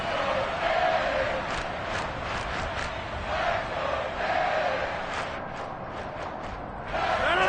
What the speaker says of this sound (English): Here comes a big one as this crowd gets out making some noise.